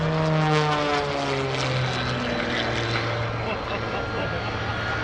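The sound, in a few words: aerobatic propeller airplane flying maneuvers at airshow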